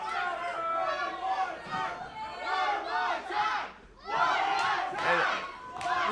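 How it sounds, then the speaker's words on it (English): Wrestling crowd at a six-man tag team match shouting, chanting and cheering loudly and continuously, with a brief dip in the middle before the roar surges back, dense with overlapping voices. "This is the same crowd that was chanting for chaos earlier."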